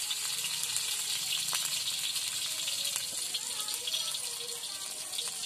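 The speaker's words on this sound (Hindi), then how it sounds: "अब इसको तड़का लगाएंगे" Constant crackling sizzle of spices hitting hot oil, bright and close, with small pops scattered across the whole stretch.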